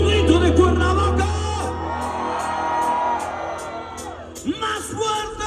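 A concert crowd shouts and whoops loudly, a sustained roar of massed voices with sharper individual yells bursting out near the end.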